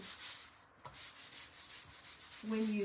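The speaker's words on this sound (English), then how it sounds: "I'm just going to use a fine sander" A fine sander lightly sanding a laser-cut wooden surface, a soft steady rubbing hiss close by over a few seconds, ending with a brief higher tonal sound.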